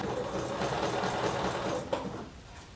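Sewing machine stitching a liquid lamé shirt seam, a steady close mechanical hum with rapid needle chatter that runs for about two seconds and then stops, leaving a brief quieter tail.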